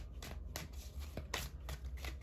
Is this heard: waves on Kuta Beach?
no